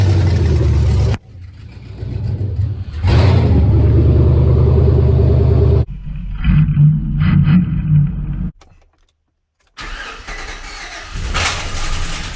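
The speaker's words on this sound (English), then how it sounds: "And ignition." A car engine is started by ignition and revved, giving a loud close rumble with abrupt changes in level, a brief squeal and a short silent gap before the engine noise resumes.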